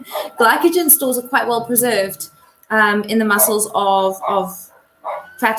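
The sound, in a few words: dogs barking indoors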